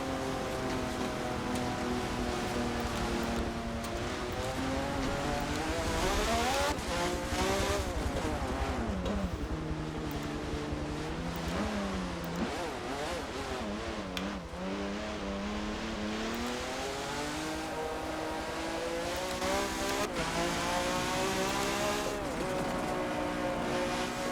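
A racing car engine in Forza Motorsport 7 drones and revs continuously, pitch rising and falling with gear shifts, loud and steady throughout with a slightly synthetic, game-like tone.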